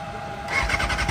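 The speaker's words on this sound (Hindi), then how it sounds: "आम चल 6R को स्टार्ट करवा" A Kawasaki ZX-6R motorcycle with a Race Fit exhaust fires up after a brief quiet idle hum, then settles into a loud, close, rough idle with rapid pulsing throb.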